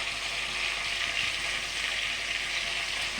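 Food sizzling slowly in oil in a pan, a steady, even hiss of frying that holds close and constant throughout with no voices.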